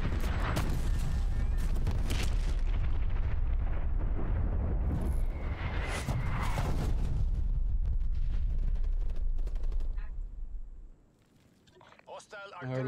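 Incoming artillery in Call of Duty Black Ops Cold War rumbles with heavy, repeated booming explosions and crackling debris, dense and loud, then fades near the end while someone talks over it.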